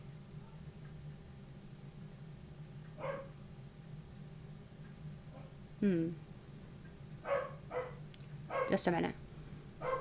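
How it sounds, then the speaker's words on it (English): A pet dog barks several times in the background, short muffled yips and barks scattered between moments of talking in a room. "My dog was barking."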